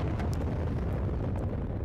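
In the video game Disassembly 3D, a bomb detonates under a tank and sets off a loud, sustained roaring rumble of explosion. The blast stays dense and heavy throughout, with faint crackles scattered on top.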